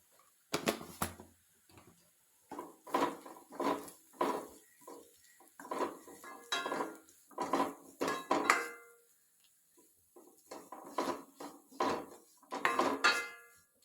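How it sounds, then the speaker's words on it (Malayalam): A spoon scrapes and knocks against a pan, mixing coriander powder into food, with irregular bursts of stirring clatter separated by short pauses, close and fairly quiet. "അത് നല്ലപോലെ ഒന്ന് മിക്സ് ചെയ്യട്ടെ"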